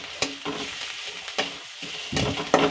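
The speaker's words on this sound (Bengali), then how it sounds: "এবার পেঁয়াজটা হালকা ফ্রাই করে নেব।" Chopped onion frying lightly in a pan, with a steady soft sizzle broken by several sharp stirring scrapes at a close range.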